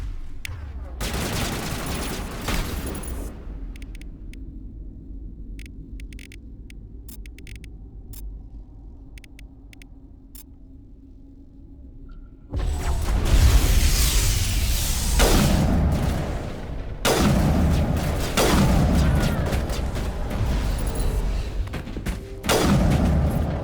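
Heavy gunfire in the video game Mass Effect at Rift Station comes in dense loud volleys, opening with shooting, dropping to a quieter lull, then erupting again into sustained bursts with booms.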